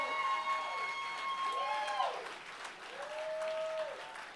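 A crowd at a spoken word poetry event in Philadelphia applauds steadily at a distance, soft and continuous, with a few whooping cheers rising above the clapping.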